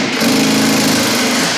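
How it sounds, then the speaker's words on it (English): A ratcheting power gun drives screws while a roof top tent is installed, giving a loud, continuous motor whir with a steady buzzing ratchet texture throughout. "The best way to do this is with the ratcheting gun."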